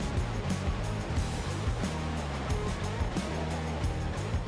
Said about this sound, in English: you are standing on top of Mandurun Falls